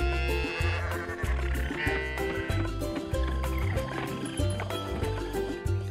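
Barn animals in the farming game Coral Island, including goats, sheep, pigs, cows and llamas, neigh and bleat in repeated calls over a rhythmic background tune, moderately loud and close.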